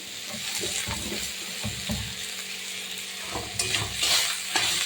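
Cut elephant apple (chalta) being stirred in a frying pan, a gentle sizzle under repeated scraping and shuffling of the spoon, fairly close and quiet, with no one speaking.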